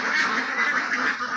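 Laying ducks on a duck farm flock of about 170 birds, quacking as a dense, continuous chorus up close, with overlapping calls pulsing steadily and no talk.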